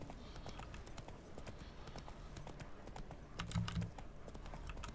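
Horse hooves clip-clop steadily at a walking pace in The Witcher 3, with a faint background ambience and a brief louder thump near the end.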